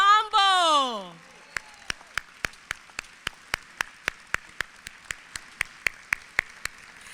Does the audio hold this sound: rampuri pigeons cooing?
no